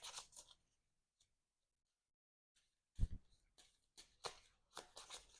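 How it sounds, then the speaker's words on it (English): Quiet riffling and snapping of cards being shuffled in short bursts, with a pause of near-silence in the middle. "let's shuffle up our invocation deck here"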